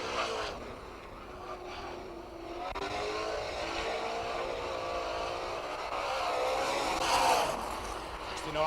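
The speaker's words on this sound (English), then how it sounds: "Have a look at Phil March booting this car as it comes sideways through turns 3 and 4 now" A Pantera super sedan with a 302 engine races sideways through turns on a speedway, its engine revving hard and rising as it powers through, with an announcer commentating over the noise.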